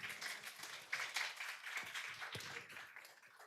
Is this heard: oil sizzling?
no